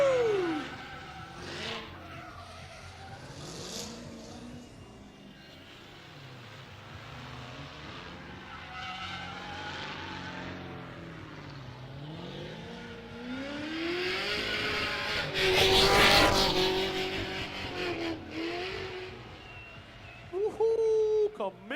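A drift car slides through a drift pit with the throttle worked, its engine rising and falling in pitch before a loud burst of tire and exhaust noise, heard from a distance under crowd chatter and talking.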